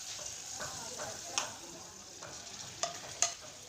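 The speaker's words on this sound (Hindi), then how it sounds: "अब इस कीमे को हम इसमें अच्छी तरह मिक्स करेंगे मसाले में और पकाते हैं" Chicken keema being stirred and fried in a masala of spices and yogurt, a soft steady sizzle broken by a few sharp scrapes and taps of the spoon against the pan.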